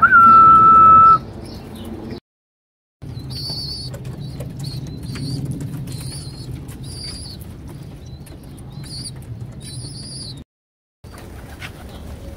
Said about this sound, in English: Open the loft up and let the birds come out in the night.